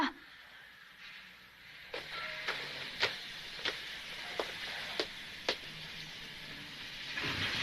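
Rhythmic clacking of train wheels repeats at a steady pace over a hissing rumble, moderately loud and nearby.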